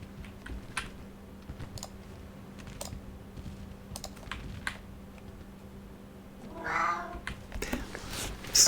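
A house cat gives a single close meow near the end, amid sparse computer-keyboard typing and clicks in an otherwise quiet room.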